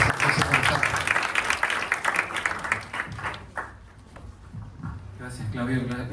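An audience applauds briefly, with clapping mixed under a man's speech that continues as the applause fades.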